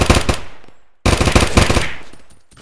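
Automatic gunfire from a gun in the game Unturned: two loud, dense bursts of rapid shots separated by a brief pause, close and dominant, with no talking.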